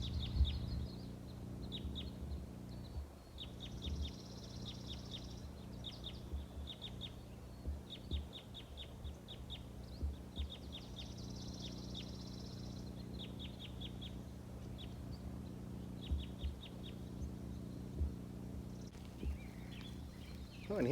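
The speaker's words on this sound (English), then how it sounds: "So all those bird songs means that it is spring" Birds sing in spring, chirping in quick repeated trills over a low steady background hum, faint and a little distant, continuing throughout.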